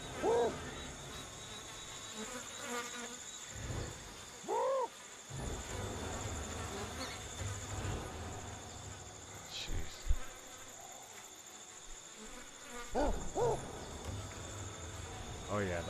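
Bees buzz around a beehive in the video game Ancestors: The Humankind Odyssey, a steady insect drone over jungle ambience with chirping and occasional louder calls or thumps.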